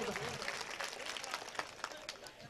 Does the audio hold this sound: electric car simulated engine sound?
no